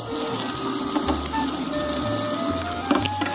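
Bacon fries in a pan at a pub grill, giving a steady close sizzle with crackling pops running throughout.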